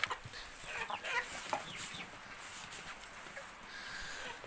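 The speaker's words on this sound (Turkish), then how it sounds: "Tavuklarım böyle yaşlılar şu anlık." Older chickens cluck and squawk steadily at a distance, a busy flock chattering over faint background noise.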